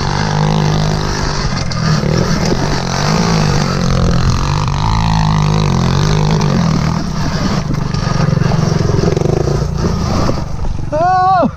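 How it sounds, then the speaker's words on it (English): A pit bike engine labours uphill on a hillside trail, a loud, continuous motor drone that rises and falls steadily from start to finish, with faint voices briefly near the end. "He's doing it on the pit bike."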